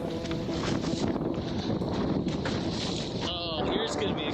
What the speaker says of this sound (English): it's so windy, it's just pushing me downwind